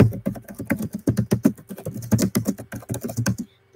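Rapid typing on a computer keyboard, close and crisp, with uneven bursts of clicking keystrokes that stop abruptly near the end and leave a faint hum. No voices.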